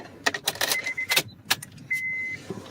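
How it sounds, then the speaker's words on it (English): Car keys jangle and click as they slide back into the ignition of a 2008-2012 Honda Accord: several brief, close metallic rattles, then a steady electronic chime tone. "Put the key back in the ignition."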